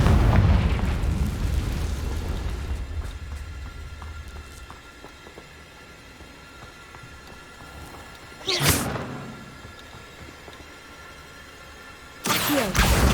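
Explosions from a Confringo spell in a Harry Potter video game, an opening rumbling blast that fades into a quieter ambient stretch, followed by two more sharp bursts later on, loud and close, with no speech.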